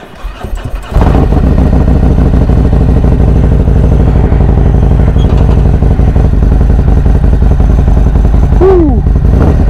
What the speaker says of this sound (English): Let's get this cold start up and let's get out the neighborhood.